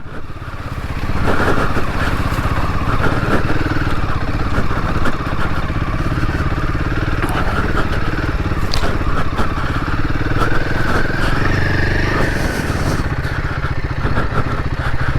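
A Royal Enfield Himalayan 450 motorcycle chugs steadily through mud on a UK trail, its engine note low and continuous with some clattering, loud and close throughout.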